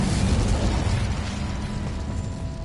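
Incendio fire spell cast in a Harry Potter video game, heard as a loud, continuous roaring whoosh of flame with a rumbling low end that stays steady and fills the whole short clip.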